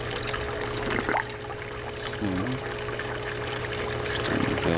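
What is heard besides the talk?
water pouring into an aquaponics swirl filter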